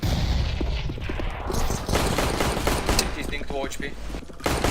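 Gunfire from CS:GO, a dense spray of rapid shots mixed with game effects and footstep clatter, loud and continuous under a voice.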